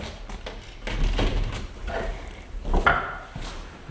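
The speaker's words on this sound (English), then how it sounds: "so we'll just close this door." An indoor door is pushed shut during a ghost hunt, giving a few soft knocks and scraping bumps at moderate, close range in a quiet room.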